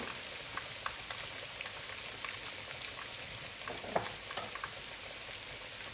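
Chopped onions fry in oil in a pan for Nigerian fried rice, giving a continuous close sizzle with scattered small pops and crackles over the quiet, steady hiss.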